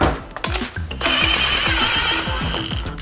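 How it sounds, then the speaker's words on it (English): A power drill drives engine bolts down on a Yamaha YFZ450R engine build. It gives a steady mechanical whir with a rattling, pulsing rhythm, close and loud, with brief spins and stops and no speech. "I'm actually going to just pop these down with the drill."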